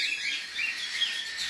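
Pet ringneck parakeets chirp in a quick, continuous twittering, moderately faint and steady, with no voices.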